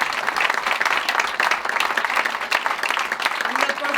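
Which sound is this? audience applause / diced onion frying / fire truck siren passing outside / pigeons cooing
audience applause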